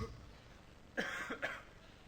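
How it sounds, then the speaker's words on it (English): Two short, close coughs in quick succession against a quiet background. "And we both have a cough."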